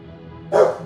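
A single dog gives one short, mid-pitched bark up close, loud against a quiet room with no voices.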